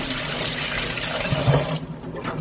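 Water runs steadily into a container to make chaga mushroom water, a continuous broadband splashing flow that stops abruptly near the end, with no talking.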